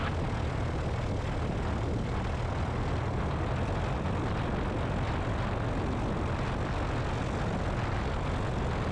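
Inside a Zenith CH 750 Cruzer light sport aircraft in tail-dragger configuration, the engine and propeller drone as a loud, unbroken, rumbling roar throughout the flight, with no speech.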